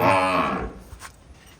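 A single deep, drawn-out Jafarabadi buffalo moo, loud and close, fading out into quiet background.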